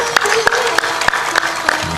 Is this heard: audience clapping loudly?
yes